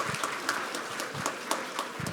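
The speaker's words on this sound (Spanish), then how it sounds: "Por eso un fuerte aplauso para Callao y Lima Metropolitana" Applause for Callao and Lima Metropolitana at a regional education project presentation, a modest crowd clapping at moderate distance with scattered sharp claps over a diffuse patter, lasting a couple of seconds without speech.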